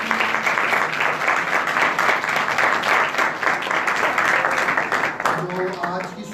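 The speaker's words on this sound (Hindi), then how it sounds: "हम जोरदार तालियां सब बहनों की।" A Sunday church service congregation applauds the women's fellowship, steady dense clapping filling the hall before fading near the end as a voice begins speaking.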